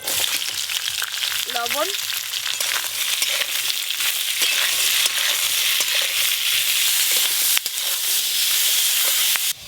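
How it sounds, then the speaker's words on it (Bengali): Ginger, garlic, onion, tomato and green chilli frying in a little oil for a chicken curry gravy, a loud steady sizzle with stirring scrapes throughout and a brief voice early on. "এই যে এখানে আদা, রসুন, পেঁয়াজ, টমেটো, কাঁচা লঙ্কা নিয়েছি। অল্প তেল দিয়ে একটু ভালো করে ভেজে নেব।"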